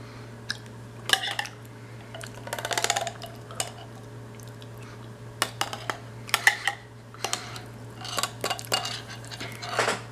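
A metal spoon scraping and clinking against an open can of cold black beans while someone eats, with sharp irregular taps and scrapes spread over quiet pauses, a low steady hum underneath and no talking.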